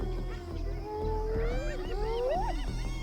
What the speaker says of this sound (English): Yowling for backup throughout the fight, she holds on as long as possible